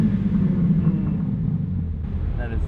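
A BMW G8X fitted with catless downpipes rumbles loud and close with a steady deep engine drone, its note barely changing across the short stretch before a brief lift near the end.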